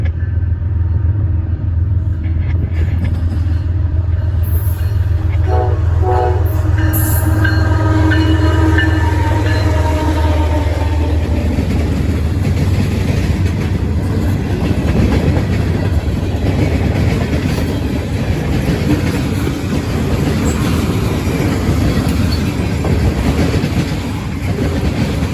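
A CSX M560 freight train rumbles past close by and loud at a busy rail junction, sounding a brief horn early on, with the heavy rolling roar of the cars continuing steadily.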